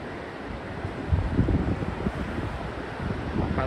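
Gentle ocean waves wash onto the quiet sand at Emerald Beach. The surf is a soft, continuous rumble, mixed with wind buffeting the microphone.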